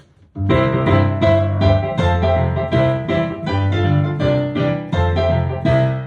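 Piano playing a melody with rich, full chords underneath, sustained notes ringing across several bars, loud and close with no voices.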